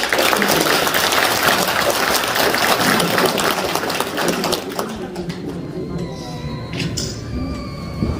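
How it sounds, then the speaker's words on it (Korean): An audience at a clan association general meeting applauds for about four and a half seconds, a loud, steady patter of many hands that fades away before a voice speaks over a quiet room. "감사의 박수 부탁드립니다"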